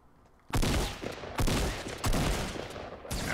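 Loud bursts of rapid gunfire in a video game, four separate volleys of fast automatic shots with short pauses between them, close and dominant with no talking.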